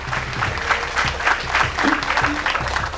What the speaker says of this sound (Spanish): para los que pido un fuerte aplauso